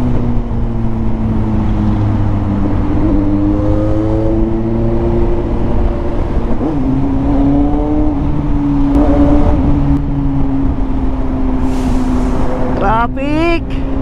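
A Suzuki GSX-S750 motorcycle rides through congested Philippine traffic, its engine droning steadily with a rising rev toward the end, while a rider talks over the constant road and wind noise.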